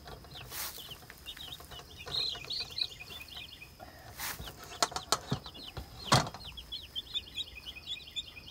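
Chickens on an RV homestead cluck and chirp at low level, with soft repeated calls drifting over a few sharp knocks and handling noises.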